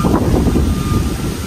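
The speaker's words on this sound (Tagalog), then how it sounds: "Lakas ng hangin." Strong wind gusting in a backyard garden of chili plants, a loud, continuous low rumble buffeting the microphone with no speech.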